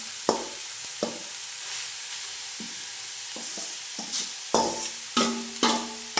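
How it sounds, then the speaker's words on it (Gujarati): Grated carrot for halwa stirred in hot ghee, soft frying sizzle under repeated spoon scrapes and knocks against the pan that grow busier toward the end. "તો હવે આપણે તેલમાં એને નાખી દઈશું ઘીમાં આવી રીતે બધો નાખી દેવાનો"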